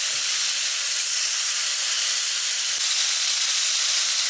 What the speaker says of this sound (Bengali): চিংড়ি মাছ উল্টো দিলে ওইরকম গ্রান বেরিয়ে।